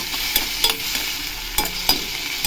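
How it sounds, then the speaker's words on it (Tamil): Rice seasoned with turmeric and salt being stirred in a pan, giving a steady soft sizzle broken by several sharp scraping strokes of the spoon at irregular intervals. "எவ்வளோ சாதம் எடுத்துருக்குறோமோ அந்த சாதத்துக்கு தகுந்த அளவு சால்ட்டு போட்டு நல்லா மிக்ஸ் பண்ணிக்கணும்"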